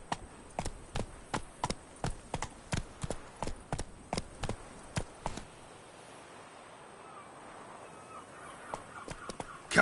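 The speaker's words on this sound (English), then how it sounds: "Run, Roach." Roach, a horse in the Witcher 3 video game, gallops with a quick even run of hoof clops for about five seconds, then fades into quieter ambient sound with a few scattered steps near the end.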